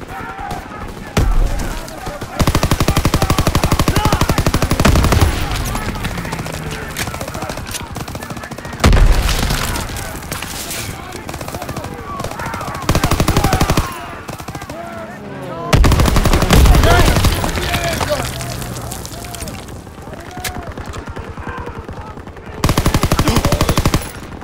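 Gunfire and explosions in Call of Duty WWII gameplay: loud bursts of machine-gun rattle and sharp shots come in repeated blocks, with blasts between them and voices heard over the fighting.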